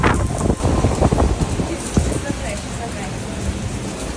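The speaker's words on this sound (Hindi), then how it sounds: "बहुत बारिश है।" Heavy rain pours in a dense hiss with gusts of wind buffeting the microphone, while people talk loudly nearby.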